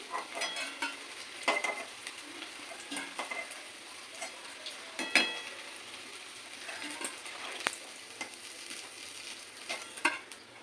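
Cauliflower pakoras, batter-coated florets for cauliflower Manchurian, fry in hot oil with a steady close sizzle, punctuated by light clicks and scrapes of stirring; no one speaks.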